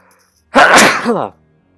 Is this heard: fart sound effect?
no